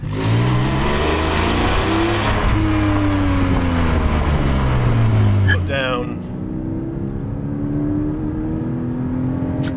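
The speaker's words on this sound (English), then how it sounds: "I think all of that is just coming from this engine behind me" A Porsche 718 Cayman GTS engine revs up behind the cabin, its note climbing steadily and loudly before easing off, with someone speaking briefly over it.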